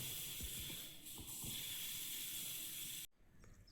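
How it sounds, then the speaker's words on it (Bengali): Rice boiling in a pot at an early-morning outdoor picnic, giving a steady hissing, bubbling rush with faint irregular pops that runs continuously, then cuts off abruptly near the end. "এখন ভাতটা সবে ফুটছে"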